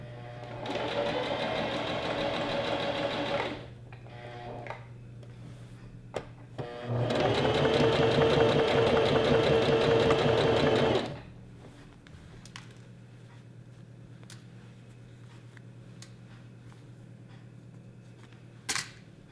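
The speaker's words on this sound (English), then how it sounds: "we're just gonna sew the waistband on all the way up." Sewing machine stitching the waistband onto a knife pleat maxi skirt, two bursts of steady, close mechanical whirring, the second louder and longer, with a low hum and small handling sounds between and after.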